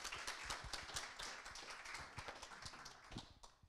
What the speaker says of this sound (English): A round of applause and thank you so much.